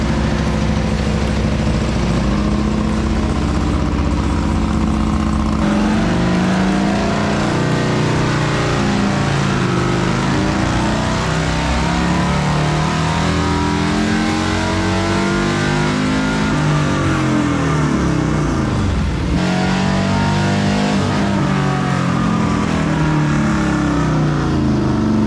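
A Stage 4 Harley-Davidson Road Glide with a large intake throttle body revs repeatedly during custom tuning, loud close engine rising and falling through sweeping throttle blips over a steady idle.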